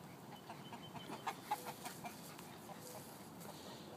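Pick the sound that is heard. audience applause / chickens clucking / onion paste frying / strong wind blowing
chickens clucking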